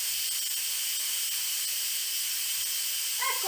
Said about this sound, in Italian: azioniamo la valvola che sta qui e facciamo uscire tutto il vapore